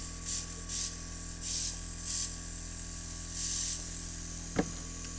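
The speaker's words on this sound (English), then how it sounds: "I'm trying not to repeat the same spraying pattern" Airbrush spraying paint onto planet bomb models, heard as several short soft hissing bursts with pauses between them, each one fairly quiet against a steady background hum, followed by a brief sharp tap near the end.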